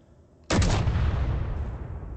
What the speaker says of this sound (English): you can fire the main cannon